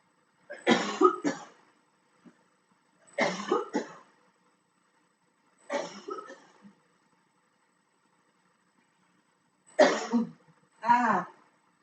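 A person coughs and clears their throat in four separate fits spread over several seconds, moderately close, with quiet pauses between them and no talking.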